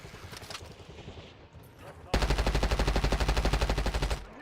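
Automatic rifle fire in Call of Duty Warzone, a fast sustained burst of evenly spaced shots starting abruptly midway and running about two seconds, loud and close, after a quieter stretch of game ambience.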